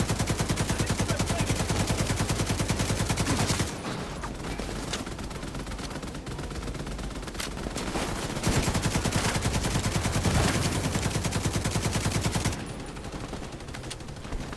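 Sustained machine gun fire from a player's weapon in The Division 2, rapid continuous bursts running loud through most of the stretch with brief dips between volleys and no talking.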